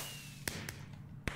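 Several sharp cracking pops of Minecraft firework rockets launching burst at irregular intervals, with a thin whistling tone fading early, fairly quiet overall.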